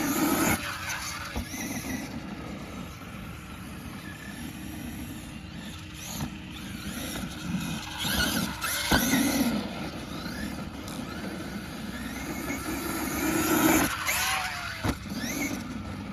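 A Traxxas E-Revo 2.0 RC car drives outdoors, its electric motor whining and rising and falling in bursts over a few passes, moderately near, with background noise and no talk.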